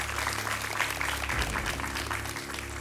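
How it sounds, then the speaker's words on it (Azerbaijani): Studio audience clapping continuously for a contestant on a quiz programme, a broad, even roar of many hands with a slight low rumble partway through and no speech on top. "Fəhmin Musayev alqışlayırıq."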